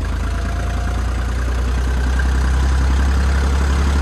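A tractor on a long-distance trip from Nashik idles in the cold of Solang Valley. Its close, steady, deep engine throb runs unbroken and grows slightly louder toward the end, with no voices.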